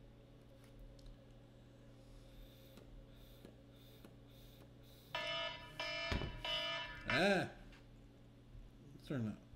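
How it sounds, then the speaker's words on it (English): Cockpit alarm in a Beechcraft B1900c in the X-Plane 11 flight simulator, repeated electronic warning tones and chimes sounding over a steady engine hum, with a brief exclamation from a voice. "Let's turn the alarm off."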